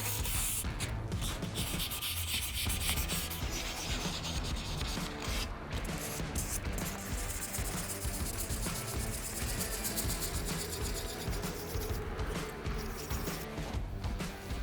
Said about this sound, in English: we're gonna wet sand this